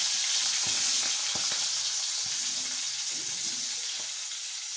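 Peas, turmeric and potato fry in hot oil with a steady bright sizzle, close and continuous, broken by a few soft stirring knocks.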